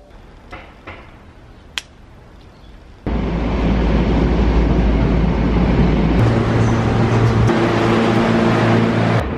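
A New York subway train rumbles loudly along the track after a quieter stretch, a steady, close roar with rattling and rising squeals partway through.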